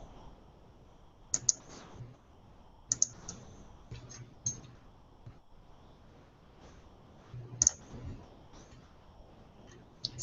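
Computer mouse clicks sound in sharp, sparse bursts, some doubled, spread irregularly across a quiet room with faint background noise between them.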